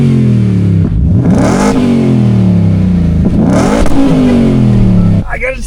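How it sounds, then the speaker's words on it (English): A supercharged Ford Raptor pickup's engine revs loudly twice in a row, each blip climbing and falling back to a steady idle before it suddenly quiets near the end. "I almost forgot to get the revs for everybody."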